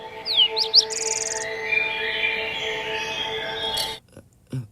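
Bird chirps from the Dead by Daylight game, a series of bright high tweets and trills over a steady tonal ambient hum, followed by a few soft thuds at the end.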